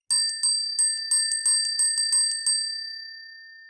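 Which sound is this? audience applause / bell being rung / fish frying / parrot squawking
bell being rung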